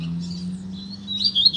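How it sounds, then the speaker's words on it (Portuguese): Short, bright warbling phrases from a double-collared seedeater (coleiro) in song, rising and intensifying toward the end over a steady low hum in the background. "Olha o canto dessa coleira."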